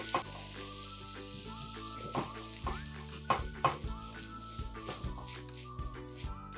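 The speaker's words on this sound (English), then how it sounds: "Add the warm cooked rice and mix everything together," Warm cooked rice stirred and fried in a pan, a steady close sizzle with repeated scraping and clinking of the utensil against the pan.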